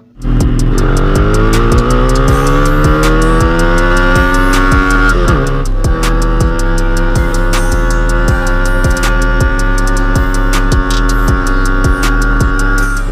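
Sigma 250cc sportsbike engine revving hard and close, loud and steady, the pitch climbing through the gears with brief dips at each shift, pulsing rhythmically throughout.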